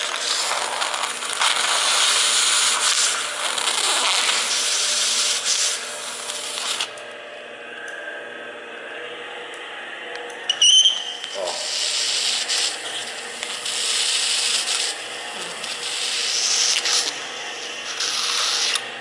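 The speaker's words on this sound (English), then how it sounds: "With a good blade, you can scrape that down to brand new smooth." A sharp blade scrapes sanded wood smooth with long repeated rasping strokes, close and steady, pausing briefly in the middle before scraping resumes.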